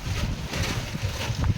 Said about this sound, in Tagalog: Grabe mahangin yung lugar.